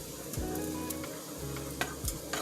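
Seasonings with squeezed ginger sizzling in a pan while being stirred, a close steady fry broken by a few scraping strokes of a utensil, with no talk.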